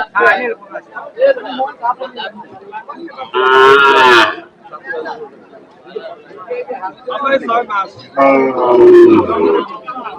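A large cow at a busy open-air cattle market lets out two long, loud, close moos, with people talking before, between and after the calls.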